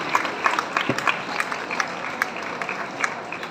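Audience applause at a felicitation ceremony, a sustained patter of many hands clapping at moderate loudness with uneven peaks, heard on its own without speech.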